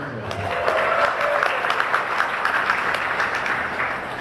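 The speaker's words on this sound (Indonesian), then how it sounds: "Jangan tepuk tangan, daftar aja." A crowd applauds at an Islamic religious talk, a loud sustained burst of clapping with scattered voices and cheers mixed in that fades slightly toward the end.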